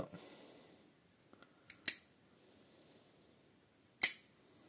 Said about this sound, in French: je coupe mes spires sur mon tappet plate